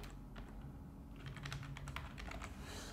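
Rapid typing on a computer keyboard, quiet and close, with irregular clusters of key clicks running throughout and no talking.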